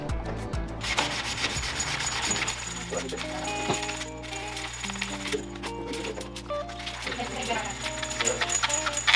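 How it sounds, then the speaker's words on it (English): A carbon fiber side skirt being sanded by hand, continuous scratchy rubbing strokes close up, mixed with a low hum and occasional clicks, with someone talking over it. "You don't have to sand it too much either."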